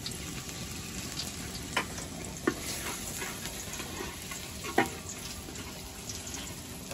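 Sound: fish frying in a pan

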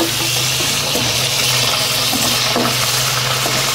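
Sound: sautéing onion and garlic in a pan

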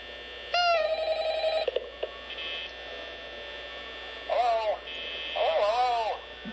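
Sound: telephone ringing in video game Five Nights at Freddy's

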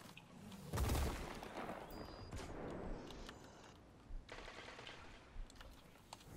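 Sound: auto rifle firing in Destiny video game

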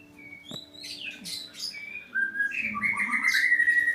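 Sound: birds chirping while being fed by child

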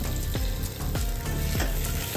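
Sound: potatoes being added to hot pan and frying

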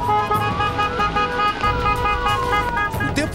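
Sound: car horns honking in a funeral procession

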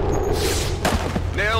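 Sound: grenade explosion in video game XCOM 2

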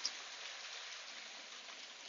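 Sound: hail falling outside

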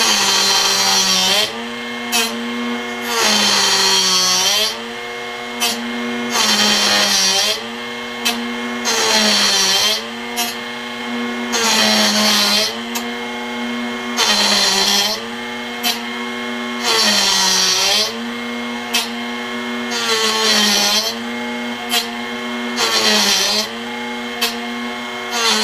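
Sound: drill bit grinding on sharpener wheel

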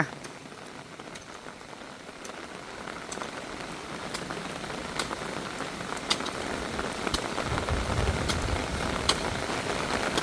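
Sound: rain falling on surfaces at home

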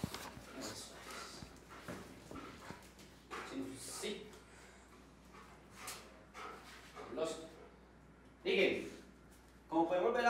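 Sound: trained attack dog whimpering and barking

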